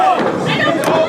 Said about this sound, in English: getting booed by a crowd like this is only going to make MKK more